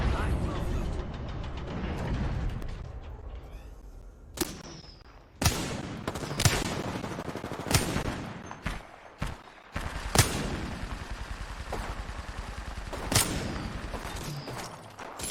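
Video game gunfire rings out in sharp, repeated bursts and single loud shots over a constant rumble of game sound, with a voice speaking between the shots.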